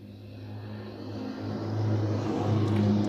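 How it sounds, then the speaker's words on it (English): A quad bike passes on a road, a steady engine drone that slowly builds in loudness over a few seconds as it draws nearer, with no voices. "And there's a quad bike going past"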